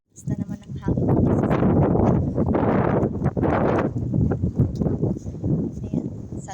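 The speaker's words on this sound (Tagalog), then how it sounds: "Ang lakas na naman ng hangin." Strong wind gusts roar and buffet a microphone outdoors in heavy, surging bursts, loud and close, while someone talks over it.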